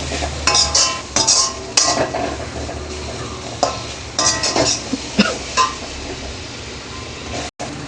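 Vegetables and pepper stirred in a pan for veg fried rice, with a utensil scraping and clinking against the metal at close range in irregular bursts over a faint sizzle, no talking.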